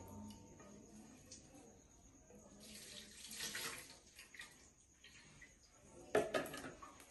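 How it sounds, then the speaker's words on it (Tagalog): Water rinsing shampoo from hair during a bed bath, a soft steady trickle and splash that swells in the middle and ends with a brief louder splash, close by with no talk. "We're going to rinse it again with the water."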